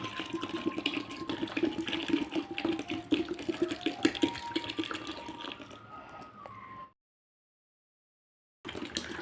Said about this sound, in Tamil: இந்த டைமில் 1 லிட்டர் தண்ணி சேர்க்கலாம்.